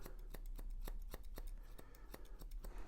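Grooming scissors trim an English Cocker Spaniel's coat around the shoulder and forearm with quick, steady snipping, many close crisp cuts in a regular rhythm.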